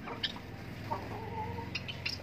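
A desi hen gives a few soft, close clucks against a low, steady background hum. The clucks come in short broken notes.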